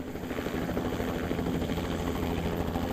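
A traffic-reporting helicopter's steady rotor thump chops overhead during morning rush hour, loud and continuous, with a broad engine roar filling the background.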